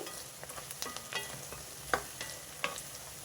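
Chopped onions sizzle in a hot pan while being stirred, a soft steady fry punctuated by scattered light clinks and scrapes of a spoon against the metal, faint and close.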